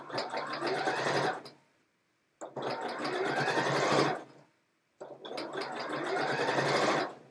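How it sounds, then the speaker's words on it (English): Sewing machine stitching a seam on a trouser pocket, three loud close bursts of rapid mechanical whirring with short silent pauses between them. "I'm going to stitch quite close to the stitching already there."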